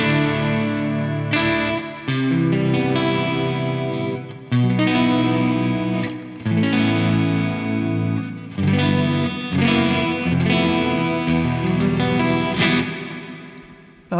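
Neunaber Immerse Mk1 reverb pedal set to Reverb Plus Detune, shimmering a loud sustained guitar through layered detuned chords, with chorus-like wavering and washy reverb tails between strummed changes.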